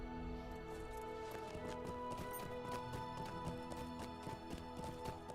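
Horse riding in LOTRO, a steady quick rhythm of hoofbeats clip-clopping close by over a constant musical drone and ambient hum, with no pauses.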